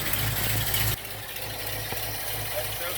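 A Chevrolet C10 pickup engine idles just after a cold start with the choke still closed, giving a steady, rumbling low hum that drops slightly in level after the first second and carries on evenly.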